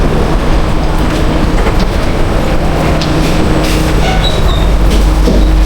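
A Singapore MRT subway train rides loudly and steadily from inside, its wheels rumbling and clacking on the rails with occasional faint squeals, no voices.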